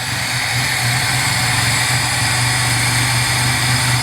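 A Unimog 404 engine with a freshly rebuilt fuel pump runs steadily after firing up, a constant close engine drone with a low hum throughout and no talk.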